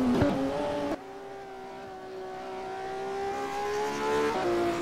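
Classic Porsche Cup race cars in a racing sim game, engines holding a steady whining drone that shifts gear and climbs in pitch through a drift, with no talk over it.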